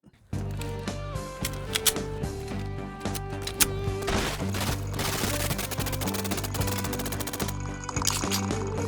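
Video game gunfire: sustained, rapid automatic shots rattle continuously at close, loud level over a tonal game soundtrack for nearly nine seconds, with no voices.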